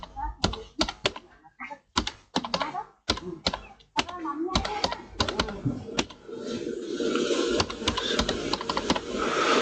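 Keys on a computer keyboard clatter in quick bursts as a school name is entered into an online job application form, close and crisp, with someone talking over the later part.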